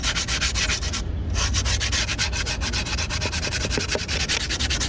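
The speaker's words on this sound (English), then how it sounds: "we're actually going to use them to clean up our edges by sanding them." Strips of grip tape rub back and forth along the edges of a wooden skateboard deck, a steady, loud, close sanding scrape with no talk.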